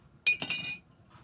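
A spoon clinks against a glass while coffee is being made on a rainy day, one bright ringing strike followed quickly by a second, close and clear, then fading.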